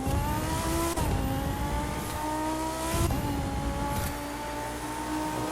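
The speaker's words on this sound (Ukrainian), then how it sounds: "Ну що, ми стартуємо на ламбі. Заїзд онлайн." Lamborghini engines in an online race start in The Crew 2, a loud steady roar with rising revs, shifting pitch at gear changes about every second, and faint tire noise underneath.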